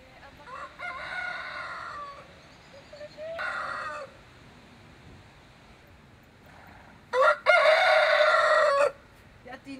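Chickens and a rooster on a Dutch farm crow and cluck in a few loud bursts, with the strongest call near the end, over quiet outdoor background.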